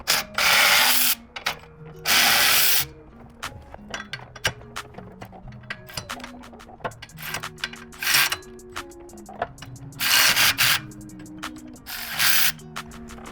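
Close ratchet clicking comes in quick bursts as bolts on the skid plate cover of a Gravely Pro-Stance mower are removed, broken up by loud hissing sprays and metallic clinks between runs.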